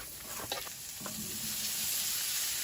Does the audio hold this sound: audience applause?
no